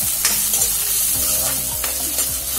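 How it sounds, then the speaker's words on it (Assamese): Chopped onion frying in hot oil in a heated wok, stirred with a utensil; a steady sizzle runs throughout, with repeated scraping strokes at a regular rhythm, close and fairly loud, with no voices. "অলপ ভাজি ল'ম"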